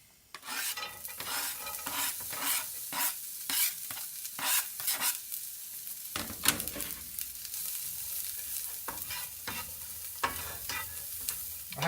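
Onions cooking down in a lightly oiled pan over low heat at a camp stove, a steady close sizzle with repeated scraping strokes of a stirring utensil throughout, and no talking.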